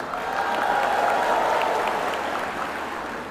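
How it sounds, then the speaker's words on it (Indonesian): A large crowd applauding and cheering for Indonesian minister Erick Thohir at a presidential event in a sports hall in Jayapura, Papua, a broad sustained wash of clapping that swells and then slowly tapers. "Sorak-sorak tahu pada kenal sama Pak Erick"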